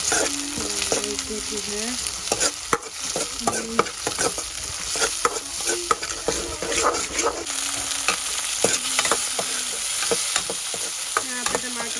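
Tomatoes and masala fry in a pan while a spoon stirs them, giving a steady close sizzle broken by frequent scraping and clinking strokes as a voice speaks briefly.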